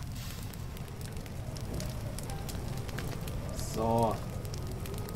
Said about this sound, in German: jetzt brennt das nämlich alles nieder